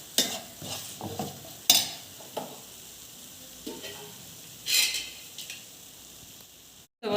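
Mustard seeds, fenugreek and spices roast in hot oil for a chicken pickle, giving a low steady sizzle. Several sharp scrapes and clinks of a spoon stirring the pan come through close by, with brief louder bursts of crackle.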